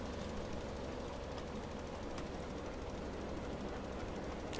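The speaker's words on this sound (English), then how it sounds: "Sounds like Thomas is going by again." Steam train passing in Farming Simulator 19, a faint, steady low rumble running continuously with no talk over it.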